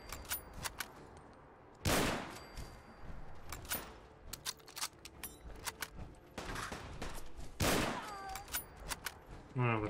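Bursts of gunfire crack out in Fallout 4 as gunners fight, with sharp single shots and heavier volleys spaced irregularly, some loud and close, others thinner and more distant.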